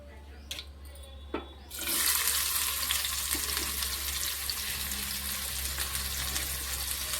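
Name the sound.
onions frying in oil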